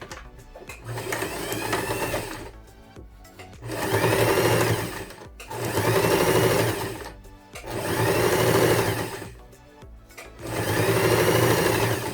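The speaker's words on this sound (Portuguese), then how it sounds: "E vou passar uma costura aqui com o pezinho de máquina." A sewing machine fitted with a zipper foot stitches fabric for a phone wallet, running in four steady, fairly loud bursts with short pauses between them.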